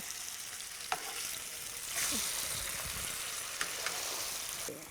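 Oil sizzles and crackles steadily throughout, with a few sharp pops and a brief louder burst as curry leaves are dropped into the hot oil; no talking.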